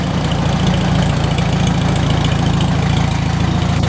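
A McCormick Deering W-4 tractor engine idles steadily after a spring crank start, with a loud, close, even low chug and no voices.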